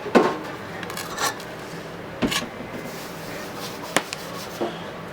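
A spatula scrapes down sour cream chocolate chip cake batter in a mixing bowl, with several short scraping and clinking strokes scattered across the clip, close by and alone.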